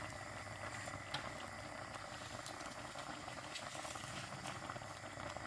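A pot of cooking liquid at a steady rolling boil, waiting for chicken to go in, gives a continuous, even bubbling hiss that holds constant throughout with no talking.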